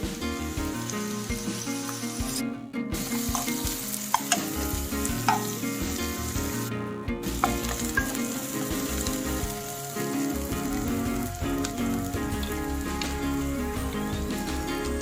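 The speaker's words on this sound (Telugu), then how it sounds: "ఉల్లిపాయలు బ్రౌన్ కలర్ వచ్చేదాకా వేయించుకోవాలి కొద్దిగా సాల్ట్ వేసుకుని వేయించుకుందాం" Onions fry with a little salt in a pan, a busy continuous sizzle and crackle with stirring and spoon scrapes, close up, with two brief pauses in the sound.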